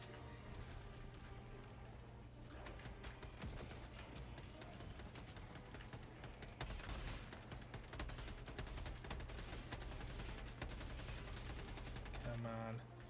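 Quiet rapid gunfire bursts in Helldivers 2 combat, a steady spray of shots over a low droning hum with occasional voices in the background.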